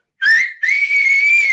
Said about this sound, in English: a loud, distinct whistle that you could hear for miles